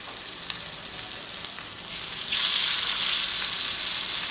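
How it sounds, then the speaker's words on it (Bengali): Paneer satay skewers fry in a little oil on a griddle, a soft hiss that jumps to a louder, bright sizzle as the skewers go down, then holds steady and close. "এবারে আমি এগুলোকে একটু ফ্রাই করে নেব। আমি কিন্তু অল্প তেলে ফ্রাই করব।"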